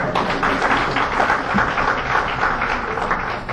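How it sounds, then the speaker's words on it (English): An audience claps steadily through a lecture session, a dense, sustained wash of many hands at even loudness from start to finish, with no pauses. "Whom are you clapping for?"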